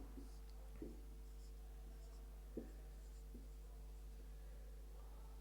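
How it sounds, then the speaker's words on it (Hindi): A pen writes an example sentence, probably on paper, in a quiet room with a steady low hum, giving soft scratchy strokes and a few faint taps at irregular intervals. "एग्जाम्पल लिखते हैं।"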